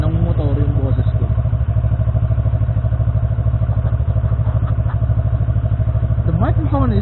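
A motorcycle engine idles steadily and loudly at a standstill, a constant rapid low throb throughout, with a few faint higher sounds over it.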